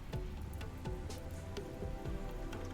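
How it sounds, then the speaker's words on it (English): Rain patters steadily in the RimWorld video game, a faint, soft texture of drops on a surface with scattered small drips, under a quiet background. "Oh, there's the rain."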